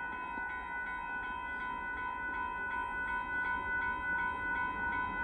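Northbound Kansas City Southern de Mexico grain train at Dittmar Road in Austin, Texas, rolling past as a steady, fairly faint rumble of wheels and cars, with a sustained tonal whine over it.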